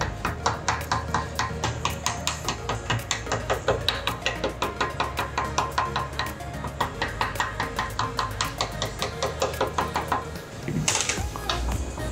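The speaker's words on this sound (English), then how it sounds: "you just take a hammer and tap the edges" A hammer taps the edges of a small cut piece of lead, making a quick, steady run of sharp light knocks, close and distinct, with a brief pause near the end before a few more strikes.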